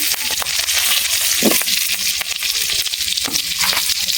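Potatoes and green chilies frying in hot oil with spices for a Bengali rohu fish curry with taro, giving a steady, close sizzle and hiss with occasional stirring scrapes, no talk.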